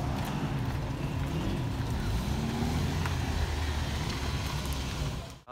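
Dense road traffic with cars queued up and some coming from the wrong side near a petrol station, a continuous low rumble of idling and moving engines with faint horns, fairly close, without clear talk.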